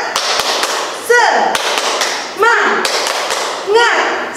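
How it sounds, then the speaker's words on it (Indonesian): Kindergarten children at a school chapel service do a rhythmic spirit clap, sharp claps and taps landing in a repeating pattern with loud chanted voices between them. "Yuk tepuk semangat"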